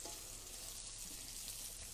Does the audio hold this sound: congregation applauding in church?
no